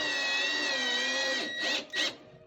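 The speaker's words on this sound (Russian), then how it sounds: "Закручиваем саморез п'ятерочкою" A power screwdriver drives a self-tapping screw into a natural wood furniture facade, giving a steady whining motor hum that rises slightly, then two brief bursts as the screw seats, with no talking.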